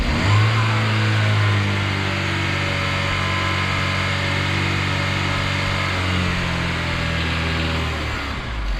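A 1.4-litre turbo engine in a parked Chevrolet Cruze revs loudly and steadily, holding a high droning pitch before easing slightly, close by with no voices.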